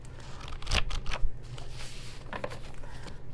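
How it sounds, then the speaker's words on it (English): Oracle cards shuffled on a table, a few quick papery riffles and crisp flicks with soft handling noise between them, close and moderately loud, with no talking. "I'm gonna shuffle them on the table and then I'll pick from the top"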